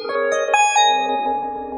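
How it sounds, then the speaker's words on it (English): Harp run through a Chase Bliss Lossy pedal for a glitchy effect: plucked notes ring out then smear and stutter into warbling, degraded tones, fairly loud and alone. "And then I'm going to run my harp through Lossy and make it really glitchy."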